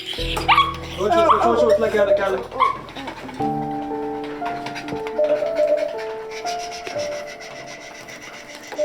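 At a vet clinic, an injured puppy hit by a car gives a few short whimpering cries at the start, followed by tonal humming and quiet handling noises, with people talking nearby.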